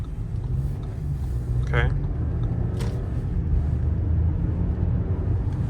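A 2021 Audi Q8 S-Line in sport mode, with about 50,000 miles on it, pulling out onto a road: steady low engine and road rumble heard from inside the cabin, with a brief spoken word.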